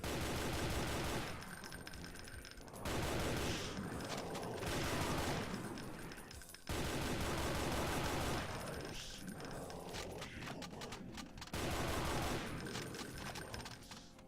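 Sustained chain gun and hitscan enemy gunfire in a Doom map, dense rapid bursts that keep rattling in long stretches, broken by brief pauses, loud and continuous with no talk over it.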